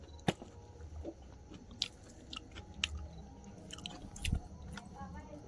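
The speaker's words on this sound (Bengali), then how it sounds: "বেগুনিগুলো খাই গরম গরম বেগুনি খাই" Close, moist chewing and biting of hot fried eggplant fritters (beguni) in a village home, irregular soft crunches and squishy mouth sounds at low level over a quiet room.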